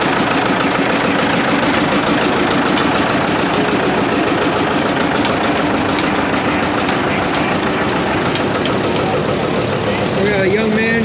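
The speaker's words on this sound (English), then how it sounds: "we got a big old John Deere coming now" A 1959 John Deere tractor with a 68-horsepower engine runs steadily and loudly at a tractor show, with a constant low throbbing drone throughout.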